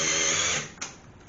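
A power drill runs with a steady, dense whine that fades after about half a second, followed by a brief burst and a quieter tail, close by in a garage-like setting.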